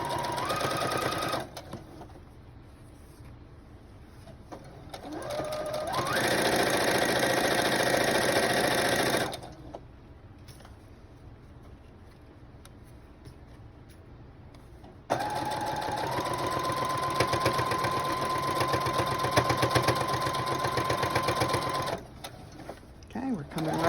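A sewing machine stitches a seam on a fabric book bag in several long bursts of rapid mechanical whirring, pausing between runs, with occasional talk and a whining motor pitch in later stretches.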